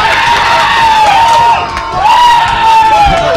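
A crowd at a Super Smash Bros. Melee tournament roars in loud, sustained cheering and yelling, a dense wall of voices throughout with electronic game tones over it.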